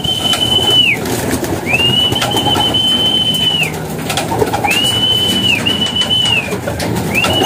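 Domestic pigeons returning home from a flight, with several long, bright rising-and-falling whistles sweeping past over a steady outdoor rumble and faint cooing; no one speaks.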